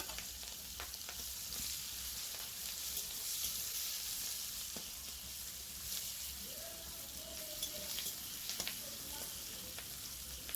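Green chillies and chopped onion added to hot oil with fried potato and pointed gourd, giving a steady soft sizzle and crackle throughout, fairly faint and even with small pops, no talking.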